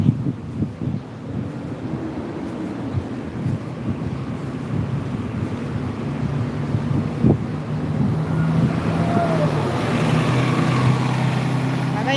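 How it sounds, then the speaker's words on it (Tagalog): Light wind blows outdoors on a hot day in Hong Kong, a steady, low rushing rumble buffeting the microphone throughout, slightly stronger toward the end. "Buti na lang humahangin ng konti."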